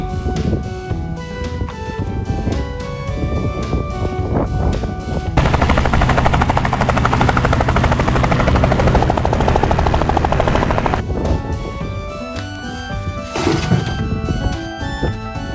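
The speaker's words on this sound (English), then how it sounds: "it's a yellow helicopter" Toy yellow helicopter sound effect, a loud continuous rotor-like chopping whir with a rattling, gunfire-like burst pattern that swells in the middle and continues steadily to the end, no talking.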